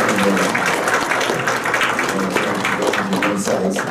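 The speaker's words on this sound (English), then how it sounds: "Let's give a round of applause right now to the panel." Audience applause for an expert panel at an afternoon discussion event on the Obama presidency, a steady dense wash of clapping sustained at even loudness for the whole stretch.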